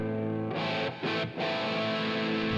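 An electric guitar played through a Line 6 Helix set to a JCM/JVM-style clean amp channel with phaser, delay and reverb, ringing sustained chords with a brief pause and swirling, washed-out tails.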